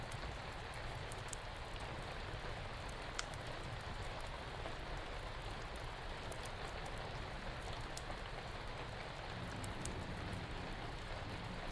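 Steady rain pours down without a break, a dense, even hiss that fills the whole stretch with no voices or other sounds on top.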